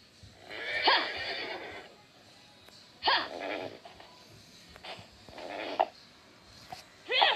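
Horses in a block-building video game neigh several times in short whinnying bursts, loud and close, separated by brief pauses.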